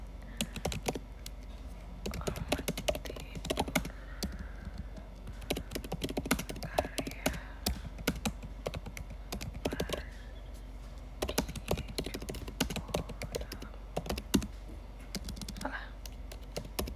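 Steady typing on a computer keyboard fills the stretch with rapid, irregular clicks and clacks, close and continuous, while a voice murmurs softly underneath at times.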